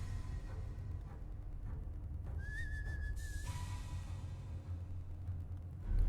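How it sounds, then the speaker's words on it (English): Short whistled tune from a stealth character in the game Aragami, a single clear whistle rising then holding for about a second over a low ambient game drone, with no talking. "Keep whistling to try to get someone to come investigate."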